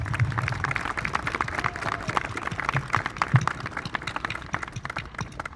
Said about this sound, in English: join me in a round of applause for every person in this audience